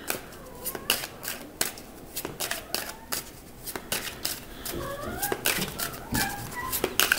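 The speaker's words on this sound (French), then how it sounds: "mon chat veut me dire quelque chose." A domestic cat meowing several times in short rising calls close by, mixed with sharp clicks and rustling, with no talk.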